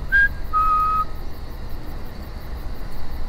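Lewis, a character in The Walking Dead Final Season video game, whistles a short tune: a brief high note, then a longer sustained one, then quieter trailing notes over faint background hum.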